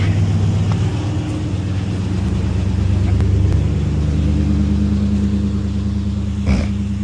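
A car engine rumbles steadily up close as the vehicle drives a trailer tire up onto a trailer aid ramp, with a low continuous drone and a slight swell midway.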